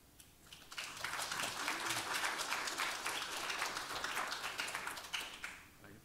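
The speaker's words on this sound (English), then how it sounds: "Let's give him another round of applause" Audience applause at a tech week event in Atlanta, a dense round of clapping that swells quickly, holds steady for several seconds and then fades.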